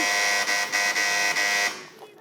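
A quiz-show buzzer sounds during a children's Bakra Eid quiz, one loud, harsh, steady electronic buzz lasting over a second and a half with slight pulsing before cutting off into near silence.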